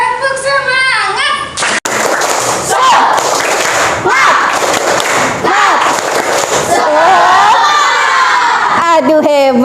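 Schoolchildren in an Indonesian classroom clap and chant together in a loud, rhythmic 'tepuk semangat' cheer, with shouting voices and sharp claps filling the room.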